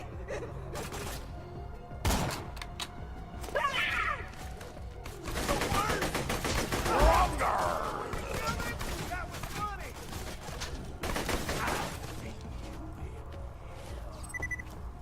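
Shotgun blasts from the video game Borderlands 2 ring out amid a busy mix of gunfire and game effects, with several loud bursts spread through the stretch, one sharp hit near the middle, under a character's shouting voice.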